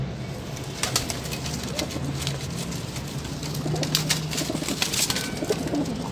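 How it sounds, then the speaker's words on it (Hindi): A Jonsra pigeon coos softly a few times nearby, low rounded calls over light rustling and background noise. "ये जोंसरा कबूतर है, ये भी चिट पे पकड़ा है, बड़ा शानदार कबूतर है।"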